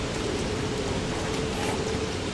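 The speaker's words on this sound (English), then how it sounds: "And it's raining like crazy," Heavy rain pours in the survival video game Don't Starve, a steady dense hiss that stays constant and loud throughout with no voices.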